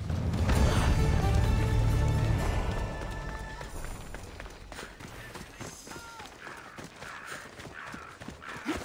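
Running footsteps from the ancient Greek video game Assassin's Creed Odyssey thud in a steady rhythm under loud ambient music and game noise, with hoof-like clopping that fades as the scene quiets.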